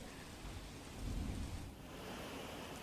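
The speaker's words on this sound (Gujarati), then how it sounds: "સમગ્ર શહેરમાં ધીમી ધારે વરસાદ વરસ્યો" Gentle city rain falls steadily as a broad, even hiss, with a low rumble swelling briefly in the middle, heard alone with no voices.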